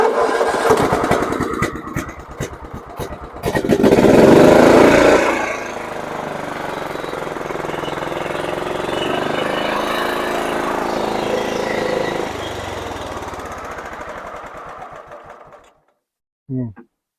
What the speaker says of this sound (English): Let's see if this thing will fire up.